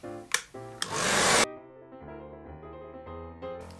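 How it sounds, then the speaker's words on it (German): A hair dryer blows to dry paint on a model sledge, its loud rushing airflow running for about a second before cutting off abruptly, leaving quiet background sounds. "Und jetzt wird erstmal geföhnt."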